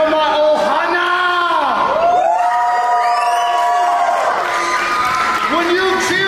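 A wrestling event crowd cheers and whoops loudly and continuously, shouts rising and falling in waves with some children's voices among them.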